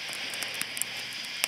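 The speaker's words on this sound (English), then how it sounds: "this is our first campfire at Sharando Lake in George Washington National Forest" Campfire at a forest campground beside Sharando Lake in George Washington National Forest, giving a steady close hiss broken by sharp pops and snaps, with a loud crack near the end.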